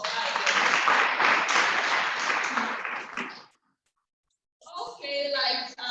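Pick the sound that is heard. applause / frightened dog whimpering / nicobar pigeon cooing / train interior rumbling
applause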